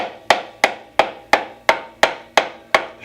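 A track insert is hammered into a load wheel with gentle taps, about nine evenly spaced sharp knocks in a steady rhythm, close and clear with nothing else audible.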